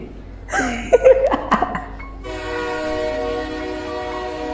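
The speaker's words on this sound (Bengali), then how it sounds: "হঠাৎ ইঞ্জিনটা হুইসেল দিয়ে উঠল" A steam locomotive whistle in a Bengali radio drama sounds as one long, loud, steady blast from about the middle of the clip onward. Before it, brief voiced sounds resembling laughter are heard.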